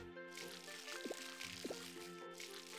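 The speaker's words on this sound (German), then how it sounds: "Dann gießen wir mal." Watering crops with a watering can in the farming game Harvest Moon: Licht der Hoffnung, soft liquid pouring and dripping splashes repeating twice over steady game music, fairly quiet.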